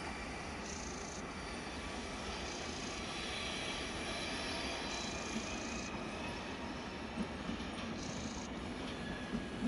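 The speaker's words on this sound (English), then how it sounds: "Oh, I think this one might be our train actually." A train rumbles past steadily in Lucerne, Switzerland, with a broad, continuous roar of wheels on rails and faint high squeals throughout.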